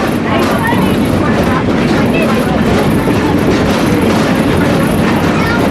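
The Edison train rolls along Greenfield Village's Weiser Railroad, a loud, steady rumble with a continuous broadband roar heard from on board. No clear clickety-clack stands out.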